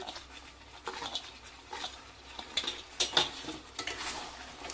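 Prawns fried earlier and salt are stirred into a cooked-down spice paste in a pan, with soft scraping and gentle sizzling that rise and fall as a spoon turns the mixture, and a few light clinks of metal in between.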